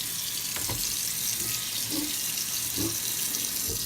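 Tap water runs steadily into a sink, rinsing a cast iron pan after cleaning, a continuous broadband rush with a few faint knocks of the pan against the stream, close by and alone.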